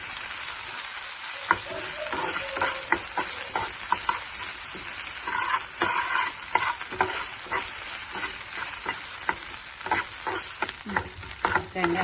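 Ginger paste frying with onions in a pan for a spinach and liver fry: continuous close sizzle broken by frequent clicks and scrapes of a spoon stirring, no speech.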